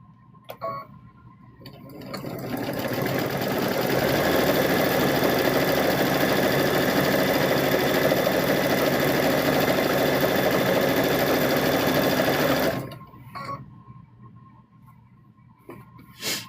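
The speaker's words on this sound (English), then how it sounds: "So what we're doing is we're sewing one here" A sewing machine runs continuously for about ten seconds, stitching chicken quilt pieces with a steady, close whir that starts and stops cleanly.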